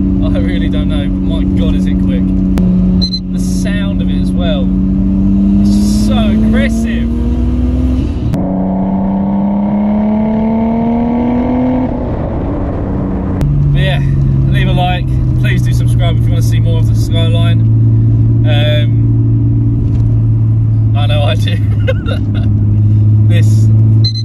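A Nissan R32 Skyline engine pulls hard at full throttle, rising in pitch through each gear, then dropping at the shifts, loud and close from inside the car, with a voice speaking over it.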